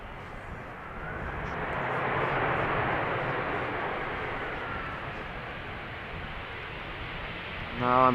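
A fixed-wing airliner arriving on runway 18R at Amsterdam Schiphol Airport, a broad engine roar that swells gradually to a peak and then holds steady, heard alone in the open air.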